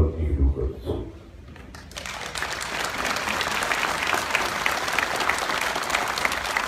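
Audience applause at a Czech president's public meeting with citizens in Bystřice nad Pernštejnem, a dense, steady clapping from a hall crowd that swells in after a voice and continues evenly to the end.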